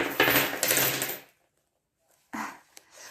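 Coins poured out and handled, a dense clinking cascade for about a second, then silence, then a few nearer metallic clinks and a rattle.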